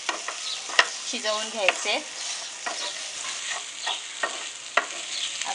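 Okra being stir-fried in an open pan with no lid, with a soft sizzle and rhythmic scraping spatula strokes close by, while a voice speaks briefly at the start.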